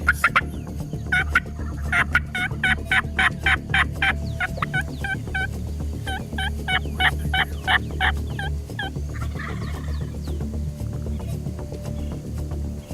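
Rio Grande wild turkeys gobble repeatedly in loud overlapping bursts on a ranch, several birds calling near and far over a low steady background rumble.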